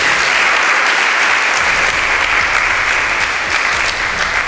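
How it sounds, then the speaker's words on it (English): Dense, loud applause from a large audience fills the hall steadily for an event organizer at an educational debate, a continuous wash of clapping without pause. "A round of applause for the organizer"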